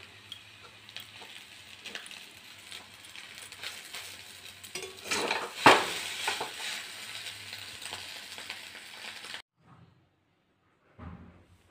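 Chow mein frying in a pan as an egg goes in, a steady broadband sizzle with stirring clatter that swells midway, then cuts off into near silence with one brief final scrape.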